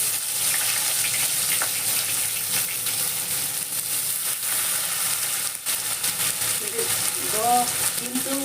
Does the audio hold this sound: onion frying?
yes